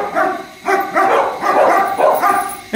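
Small young dog in training barking and yapping close up, a rapid run of loud, strained barks with no talk over them.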